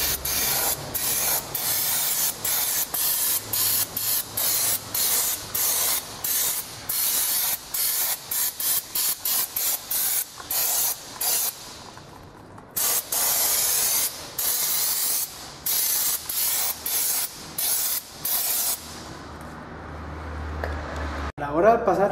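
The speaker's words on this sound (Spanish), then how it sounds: "Pasar este tipo de spray sobre todos los dispositivos del freno trasero, vamos a quitar la grasa y polvo" Brake cleaner sprays in repeated loud bursts over the rear brake assembly of a Toyota Fortuner, each blast a harsh hiss with short gaps, steady and close throughout.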